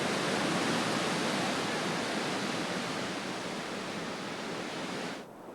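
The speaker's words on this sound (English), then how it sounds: "The rushing water carries all before it." Floodwater from a sudden desert downpour rushes loudly and steadily as a dense broadband roar, dropping off abruptly near the end.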